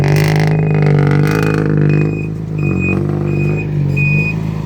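A Thai excavator with a loud, modified exhaust muffler idles and runs nearby, a steady heavy engine drone with a prominent low hum, slight dips in intensity, and faint intermittent high beeping.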